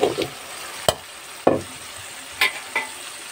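Taro tossed into spices frying in a pan gives a low sizzle, interrupted by a few sharp clacks and scrapes of a spoon against the pan, close and fairly quiet with no talking.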